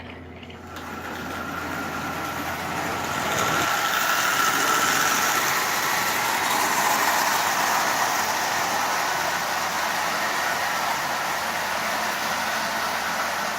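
A prewar Marx 999 toy train locomotive pulls twelve tin litho cars, its electric motor giving a steady whirring hum with track rumble that swells after a few seconds and then runs on evenly and close.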